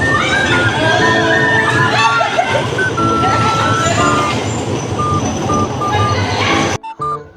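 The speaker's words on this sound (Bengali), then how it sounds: "এসেই আমরা বাম্পার কার রাইড নিলাম।" A bumper car ride at an amusement park fills the space with a loud, busy din of crowd voices and shouting children, electronic beeps and tones ringing over the mix, and a sudden cutoff near the end.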